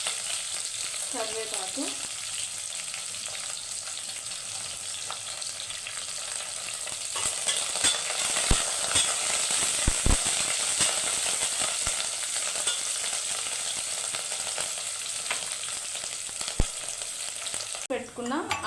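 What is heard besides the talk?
green chilies being stirred and fried in a pan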